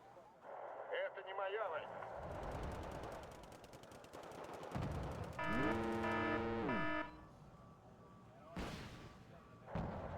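Distant booming artillery fire and bursts of machine-gun fire rumble through a war strategy video game battle, mixed with a whining tonal sweep and rolling noise, with occasional voices.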